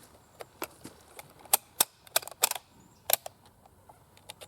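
Swedish AG42B Ljungman rifle fired at a 200-yard range, a string of sharp, distant-sounding cracks spaced irregularly, some louder and closer together, with no talking.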